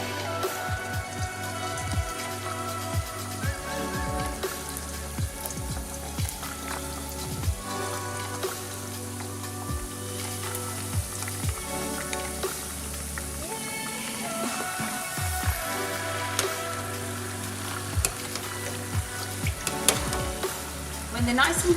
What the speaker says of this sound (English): that's sizzling, so let's get frying.